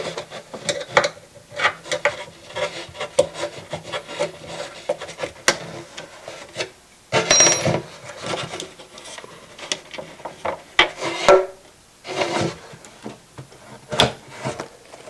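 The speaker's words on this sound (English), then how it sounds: "All I have to do is reach inside the guitar, unscrew the bolts, and the neck comes right off" Bolts are unscrewed from inside a guitar body to take off its bolt-on neck, giving irregular close scraping, creaking and rubbing with small metallic ticks and a few louder bursts of handling noise.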